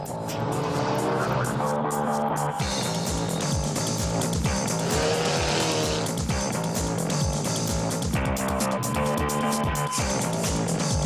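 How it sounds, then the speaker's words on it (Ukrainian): Racing cars roar through deep mud in a brutal off-road survival race in Kryvyi Rih, their engines a loud, steady, continuous drone that fills the whole stretch with no speech over it. "Ось вони перегони для справжніх чоловіків."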